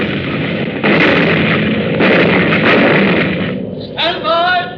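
An anti-aircraft gun fires as a radio drama effect, loud heavy booming blasts with rumbling tails, followed near the end by a brief voice.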